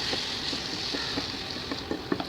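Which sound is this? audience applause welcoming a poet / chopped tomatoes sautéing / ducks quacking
chopped tomatoes sautéing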